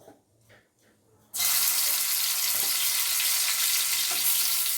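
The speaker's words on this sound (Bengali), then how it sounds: "তেল গরম হয়ে গেছে, এবার বেগুনগুলোকে দিয়ে দেবো।" Brinjal slices hit hot mustard oil in a pan and burst into a loud, steady sizzle that starts abruptly after a few quiet seconds of soft kitchen sounds and carries on evenly.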